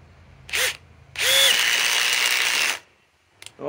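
DeWalt DCF860 impact driver driving a fastener: a short burst, then a longer run of about a second and a half, and another one starting at the end, close and loud with quiet pauses between.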